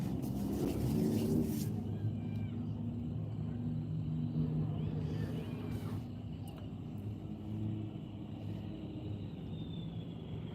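A classic truck, likely an F100, rolls past at a Pigeon Forge spring rod run as a low, rumbling engine drone that swells and fades, with distant crowd voices in the background.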